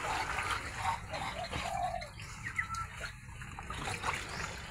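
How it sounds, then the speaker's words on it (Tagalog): Seawater surging and trickling at a very high tide, a steady wash of splashing flow with faint voices in the background. "Ang laking tubig dito."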